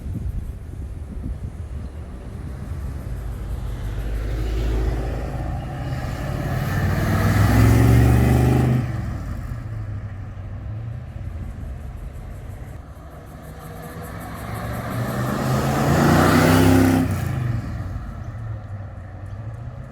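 A black 1971 XY Falcon GT-HO Phase 3 replica makes two passes, its engine rumble building as it approaches, roaring close by, then fading away before returning for a second loud drive-by.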